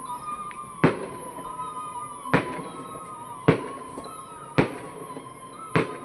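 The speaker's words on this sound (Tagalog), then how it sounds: "bang, bang, bang, bang, bang, bang, bang. Fireworks." Fireworks bursting at a terrace by the sand at Conyon Cove, five sharp booms spaced about a second apart over a steady background hum, with faint crackles between them.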